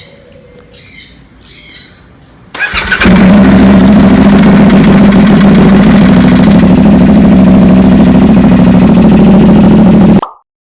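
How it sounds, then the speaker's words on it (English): Birds chirp briefly in quiet surroundings, then a CFMoto 450SR motorcycle engine cranks and catches, settling into a loud, steady rumbling idle before cutting off abruptly. "let's start the engine"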